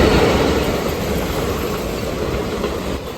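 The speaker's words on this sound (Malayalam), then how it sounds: "മംഗളൂരു കന്യാകുമാരി എക്സ്പ്രസ് ആണ്" Mangaluru–Kanyakumari Express train rushing past up close, a loud steady roar of rolling wagons with rhythmic wheel clatter and faint metallic squeal throughout, no voices.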